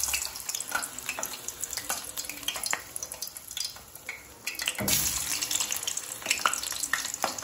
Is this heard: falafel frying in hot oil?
yes